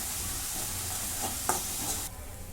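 Masala gets sautéed in a pan, a close, steady sizzle with a couple of sharp spatula scrapes before the frying noise abruptly drops off near the end.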